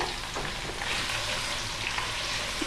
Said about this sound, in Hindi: इसके बाद इसके अंदर शामिल कर दूंगी मैं स्लाइस किया हुआ प्याज। बिस्मिल्लाहिर्रहमानिर्रहीम। अब मैं इसको करूंगी फ्राई।